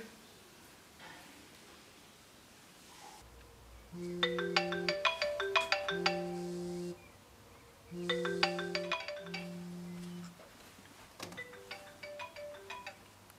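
A telephone ringtone rings loudly and close by in a home. It plays as repeated melodic bursts, two long rings separated by a pause and then a softer, shorter ring near the end, with no talk over it.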